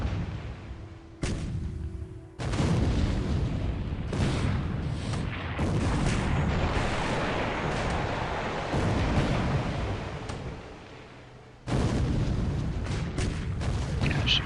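Heavy naval gunfire and shell impacts pound the cruiser Boise during a naval war game, a dense, sustained roar of booms and blasts with sharp onsets and brief lulls throughout.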